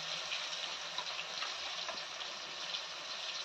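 Tap water runs steadily while pangas fish is washed in a home kitchen sink, a constant broadband gush close by with no talk.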